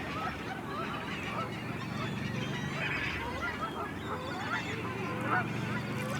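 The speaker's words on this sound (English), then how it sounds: "All of a sudden all the birds are kind of like congregating into one area and like making a ton of noise." A large flock of birds gathering at dusk in autumn at Verona Beach State Park keeps up a dense, steady chorus of honking and calling, distant and continuous throughout.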